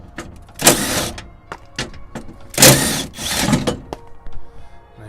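Loose parts of a 2000-2004 Dodge Dakota power window assembly rattling and clunking inside the door, with several sharp knocks and two longer scraping, rustling bursts up close, no speech.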